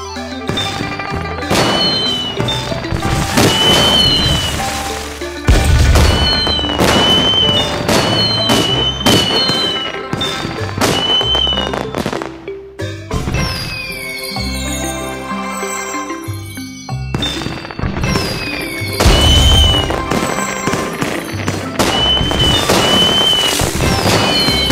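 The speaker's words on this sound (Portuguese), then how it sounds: "Fogos de artifício são tão lindos!" Repeated firework bursts and crackles from a Chinese New Year festival scene in the video game Festival do Pandinha, popping in quick clusters over bright game music, with a brief lull midway before the bangs resume.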